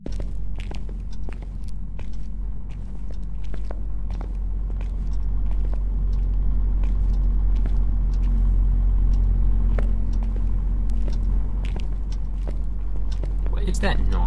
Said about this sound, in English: It's the fan. It's been turned on in here.